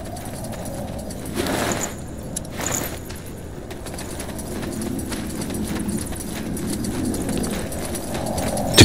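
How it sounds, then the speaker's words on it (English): Footsteps approach in the SpellForce 3 Reforced video game, near caves patrolled by guards: a continuous run of moderately loud steps over a low background, ending with a sharp sound. "Footsteps."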